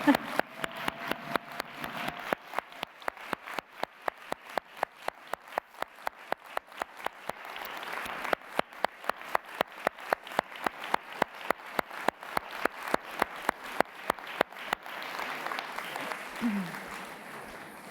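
Round of applause for honoree Ted Comet at the JPro22 plenary address, a steady, near crowd clapping with sharp regular claps over a broad wash, continuing throughout with faint talk in places.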